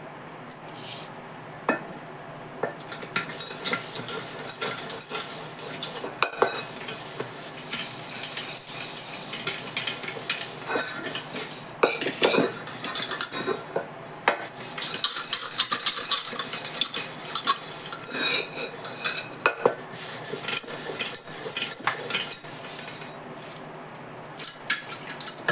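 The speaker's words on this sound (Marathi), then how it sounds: "अजून एक कुकर घासून दाखवते तुम्हाला" An aluminium pressure cooker is scrubbed with Pitambari cleaning powder, producing a long stretch of close, rhythmic scraping and rubbing with occasional metallic knocks and clinks.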